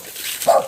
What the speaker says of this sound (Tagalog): Baka nadamay yung isang aso dyan.